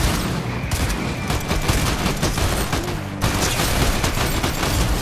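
Rapid bursts of gunfire in a Fortnite match, loud and dense, with several weapons firing in overlapping volleys nearly throughout, a brief dip near the end before shooting resumes.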